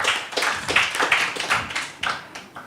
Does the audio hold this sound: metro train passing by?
no